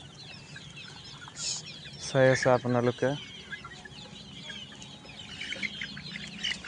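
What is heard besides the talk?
chickens clucking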